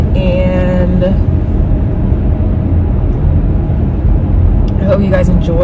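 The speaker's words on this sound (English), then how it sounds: "I'm driving to work" A car driving along a road gives a steady, loud engine and road rumble that fills the whole stretch, with a few faint voices over the top at the start and end.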